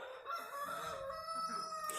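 A rooster crows at a chicken farm, one long drawn-out call carrying across the yard at moderate distance and filling the whole stretch, with no talking over it.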